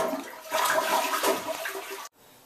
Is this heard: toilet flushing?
yes